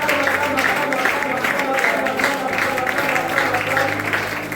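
A church congregation applauds the Lord Jesus Christ with steady, sustained clapping that continues throughout, mixed with crowd voices and speech.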